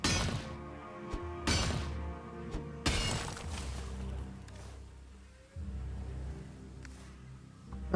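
Rocks breaking apart in a fantasy survival video game, heard as several sharp crashing impacts spaced a second or so apart, followed by rumbling debris settling, close and fairly loud with no talking.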